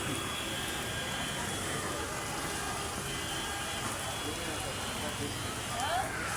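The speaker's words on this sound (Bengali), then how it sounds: "অঝরা বৃষ্টি দেখেন।" Heavy downpour in Ashulia, Bangladesh, a dense steady hiss of rain drumming on surfaces, constant and fairly close with no pauses, a brief faint higher sound near the end.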